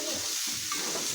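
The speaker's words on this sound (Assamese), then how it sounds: "বডি আলু ধুনীয়াকৈ ভাজি বনাইছোঁ" Potatoes for aloo bhaji fry in a pan with a brief, close, steady hissing sizzle and faint stirring, with no talking.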